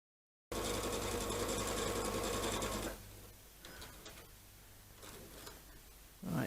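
Sewing machine running steadily as it stitches quilt pieces for a Churn Dash block with a quarter-inch foot at a 2.5 stitch length, a close, fast mechanical whir for a few seconds before it stops and quieter handling noises follow.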